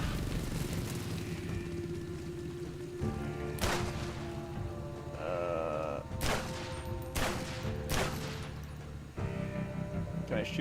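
Bursts of gunfire while driving a motorcycle in the game Laika: Aged Through Blood, several sharp cracks spread across the stretch over a constant engine rumble and game music.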